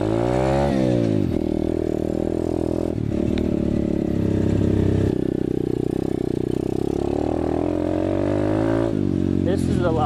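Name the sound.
Apollo 125cc dirt bike engine riding on trails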